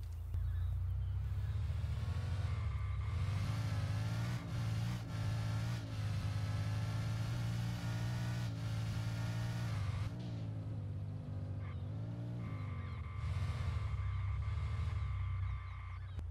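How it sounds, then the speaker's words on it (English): A car engine in a Unity wheel-collider driving demo revs and rises and falls in pitch as the car drifts, a steady mid-level drone with repeated accelerations, heard alone without talk. "Okay, now the drift seems to work fine."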